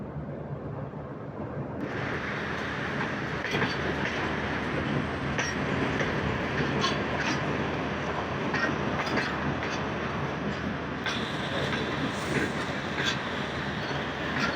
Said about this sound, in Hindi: गाड़ी पहुंच गई दोस्तों हमारी भावलपुर रेलवे स्टेशन